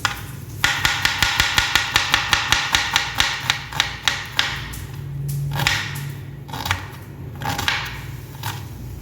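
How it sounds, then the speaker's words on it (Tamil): A knife chops a medium-sized onion on a cutting board for frying, with a rapid, even series of close, crisp taps that slows into a few scattered cuts and scraping. "இது ஃப்ரை பண்ணுறதுக்காக நண்பா இது கட் பண்ணிக்கிறேன்"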